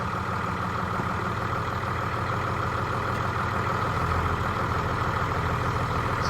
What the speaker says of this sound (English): So she's gonna back up the tractor now to get it away from them bees